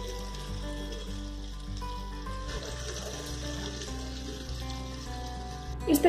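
Gujiya flowers sizzle steadily in hot oil in a pan, a continuous close frying hiss with faint bubbling, and brief clatter near the end.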